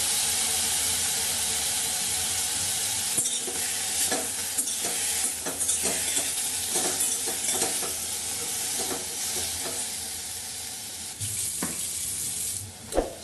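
Potato and vegetables sauté in butter in a pan over low heat, giving a steady close sizzle with repeated scraping and stirring of a utensil against the pan throughout, no talk.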